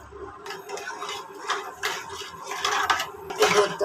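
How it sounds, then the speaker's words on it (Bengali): A spoon stirs milk in a pot, producing light metallic scrapes and clinks against the pot's sides in an uneven rhythm, close and fairly quiet, with no talking. "দুধ নাড়াচাড়া করতেছি।"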